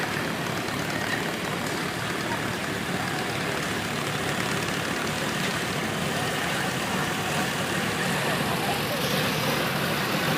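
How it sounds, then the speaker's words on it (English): A 1959 International 240 utility engine runs at a steady drone as it passes in an outdoor parade, with continuous, broad mechanical noise at moderate loudness and no clear breaks. "This is an International 240 utility from 1959."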